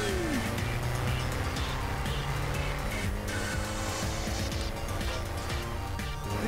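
A car is driven around a race track in Garry's Mod, giving a loud, unbroken engine drone with sliding pitch and tire squeals, while voices chatter underneath.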